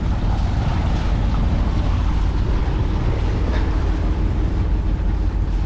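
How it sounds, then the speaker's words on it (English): Wind rises while a Beneteau 281 sails single-handed, a loud continuous rush and buffeting across the microphone with water washing along the hull, unbroken and without speech. "Well, the wind just decided to kick in."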